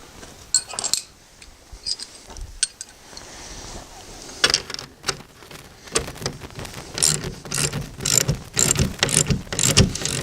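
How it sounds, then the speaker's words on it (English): Wrenches work bolts tight on homemade wooden folding sawhorses, giving irregular metallic ratcheting clicks and clinks, sparse at first and then denser and louder in quick bursts. "I'm going to get some wrenches. We're going to tighten these up"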